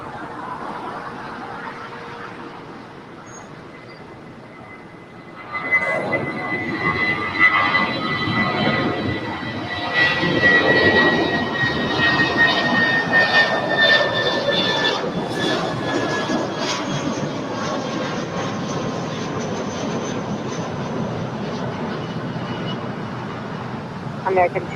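A Boeing 777 jet at LAX airport, its engines swelling from a low distant hum into a loud, sustained roar with a whining tone that holds steady.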